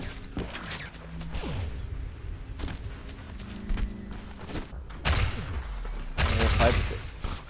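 Rocket shots and explosions in the ShootMania arena video game, several sharp bursts and thumps spread irregularly across the stretch, mid-loud over a game soundtrack with some commentary-like voice in the background.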